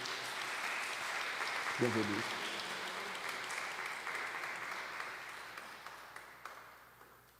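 Church congregation at a Sunday Mass applauds the children with steady, diffuse clapping heard from a distance, quiet and sustained, while a voice briefly speaks over it.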